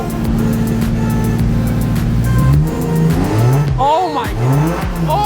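A modified Toyota Supra engine starting up for the first time idles and then revs repeatedly, rising and falling sweeps with a near, loud, raspy exhaust note, while excited voices cheer over it.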